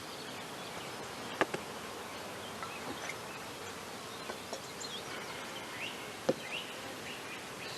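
Honeybees hum around an open hive in a faint, steady drone during a varroa mite check, with a few sharp close ticks and knocks breaking through.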